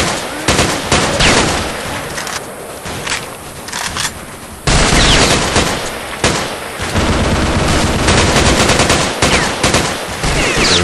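Sustained bursts of machine gun covering fire in the Vietnam War shooter Vietcong, loud and close, with dense overlapping volleys broken by a brief lull before the firing resumes.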